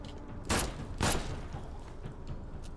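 Two loud gunshots from a shotgun and pistol in The Sinking City, about half a second apart, then a quieter rumbling tail.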